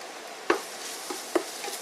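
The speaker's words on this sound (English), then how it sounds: "we are gonna be stir frying it until it gives a little golden color and aroma" Garlic and lemongrass stir-fried in oil over high heat for a chicken curry with noodles, giving a soft steady sizzle broken by two or three sharp clicks of a utensil against the pan.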